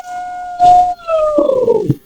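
A giant spider monster in a cave gives a loud, drawn-out wail in an African folktale sound effect, a tonal cry that wavers and slides downward, broken by a rough burst.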